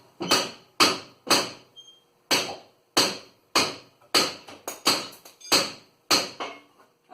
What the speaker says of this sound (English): put the nut back on, just a couple of threads, and then hit it with a hammer